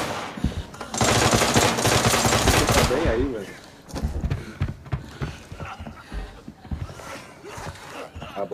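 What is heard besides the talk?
gunfire in the video game Arena Breakout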